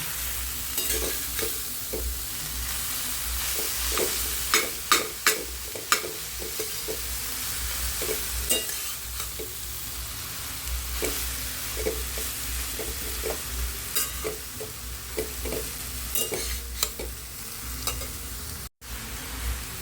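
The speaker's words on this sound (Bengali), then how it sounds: "এবার এই সুজির সঙ্গে কুমড়োটাকে ভালো করে মিশিয়ে ভেজে নিতে হবে।" Grated pumpkin and semolina, for pumpkin halwa, are stirred and fried in a pan. A steady close sizzle runs under repeated scraping and clinking strokes of the spoon, with no talk.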